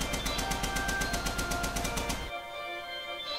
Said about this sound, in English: The Tommy gun, yes.